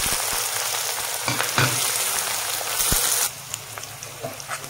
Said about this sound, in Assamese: পিঁয়াজখিনি অকণমান ব্ৰাউন কালাৰ হ'ব তেতিয়ালৈকে এনেকৈ লৰাই থাকিব লাগিব